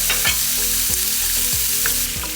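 Steak sizzles loudly and steadily in a hot pan for fried rice, with a constant close hiss and periodic faint scraping stirs, and no voices.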